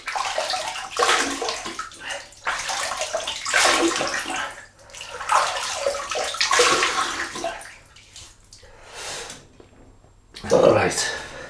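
Tap water runs and splashes as a face is wetted before a shave with a Pearl Flexi adjustable razor, a steady close rush that keeps surging and easing for several seconds, with a louder splash near the end.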